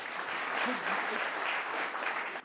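Audience applause from a crowd, a steady dense wash of clapping lasting a couple of seconds at an even level, with faint voices mixed in underneath.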